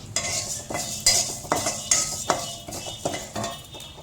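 Urad dal is dry-roasted in a pan, with rhythmic metallic scrapes and rattles of a spatula stirring the lentils, close and fairly loud, repeating roughly every half second.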